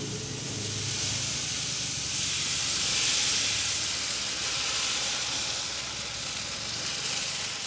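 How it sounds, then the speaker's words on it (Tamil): Rava dosa batter hisses and sizzles on a hot oiled pan in a village kitchen, a steady close steamy crackle that swells in the middle and then settles. No one speaks. "நாங்கள் இப்போ முதல் தோசை ஊற்றுவோமே"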